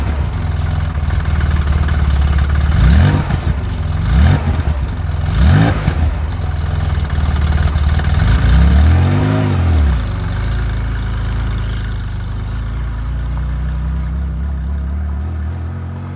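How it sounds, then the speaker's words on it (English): Air-cooled Porsche 911 3.0 Carrera flat-six on the move, loud and close, rising through repeated revs with several sweeping climbs and drops before settling into a steadier drone. "The sound coming from the air-cooled Porsche engine sitting behind you makes you want to put your foot down"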